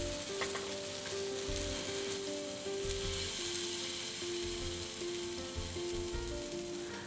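Paneer tikka pieces sizzle and fry steadily in a hot pan, a continuous close crackle with soft stirring or turning sounds, no voices.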